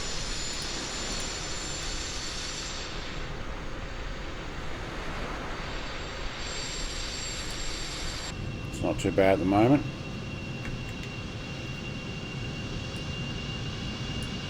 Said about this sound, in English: Engine 2 is starting up